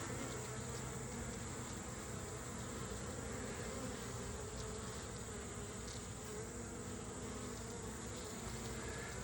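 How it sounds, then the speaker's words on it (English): Honey bees buzz at an opened hive whose colony has swarmed and is queenless, a dense, continuous drone of many insects close by with single bees flying past, and no talking. "These bees look like they were balling up another bee."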